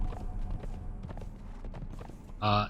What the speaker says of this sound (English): Riding the horse in tight places is super bad.